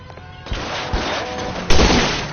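Gunfire rings out in a video game shootout from L.A. Noire, with several heavy shots and a loud close blast near the end, layered over a dense, noisy backdrop.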